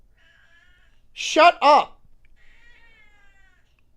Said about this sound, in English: It's a fucking cat.